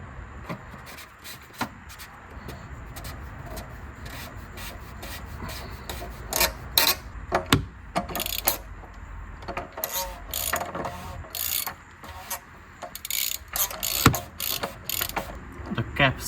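Plastic oil filter housing cap on a BMW X5 E70 40d being hand-tightened, giving a close, irregular run of scraping, rubbing and ratcheting clicks that builds in intensity, with no talk.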